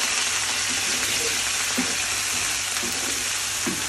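A hayagreeva mixture is stirred in a hot pan, making a continuous close sizzle with soft scraping stir strokes now and then. A faint voice can be heard at most.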